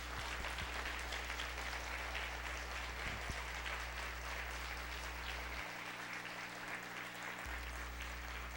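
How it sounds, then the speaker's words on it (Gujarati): A temple audience applauds in honour of event coordinators, a continuous wash of many hands clapping together at an even, sustained level with no speech over it. "આપણે એક વખત બધાએ તાળીઓના નાદથી એમને વધાવીએ"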